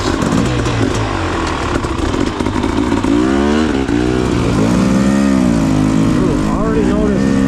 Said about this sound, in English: I'm on his 23 Beta 300 RR race.